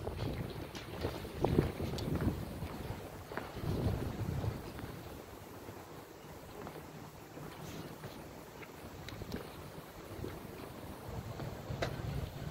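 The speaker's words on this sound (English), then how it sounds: "Sorry about the wind," Gusty wind buffets an outdoor microphone by the docks, making continuous low rumbling roars with rising and falling surges and no talking.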